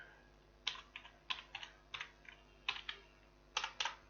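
Keys clatter on a computer keyboard during stock-item data entry in Tally ERP9 accounting software: close, crisp clicks in short uneven bursts with brief pauses between them.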